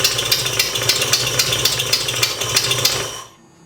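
A carbureted car engine idles roughly on a very cold day, a loud, close, uneven run with rhythmic rattling knocks roughly every third of a second before it cuts out near the end.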